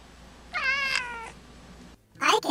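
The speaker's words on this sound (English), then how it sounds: "Do you know what sound a cat makes?" A domestic cat gives a single clear, drawn-out meow at close range, followed by a brief pause and a short, sharper sound at the end.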